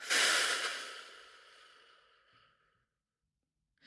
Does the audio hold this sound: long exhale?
yes